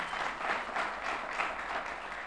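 Audience applause at a summit gathering, a steady wash of clapping at moderate distance with slight swells, continuing throughout without voices on top.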